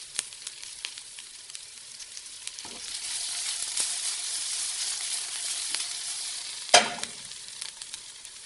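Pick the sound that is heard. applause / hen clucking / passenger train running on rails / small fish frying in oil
small fish frying in oil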